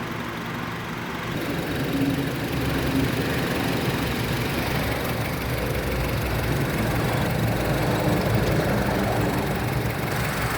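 A 2007 Honda CR-V 2.0 E 4WD 2,000 cc engine idling at a steady, even rumble, close and fairly loud, with no speech.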